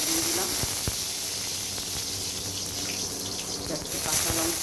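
Three dried red chillies frying in a wok of hot oil, a steady close hiss and crackle running throughout at even loudness, with a few sharp pops and no talking.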